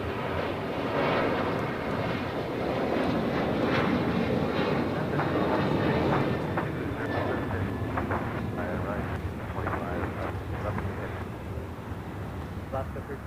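Airliner landing on runway 25 left at LAX, a steady, broad jet roar heard from nearby with people talking over it.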